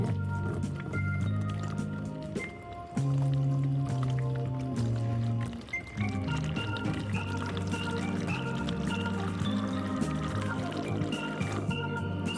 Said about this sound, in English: So I've got a big jug of water and I guess I will pour some in.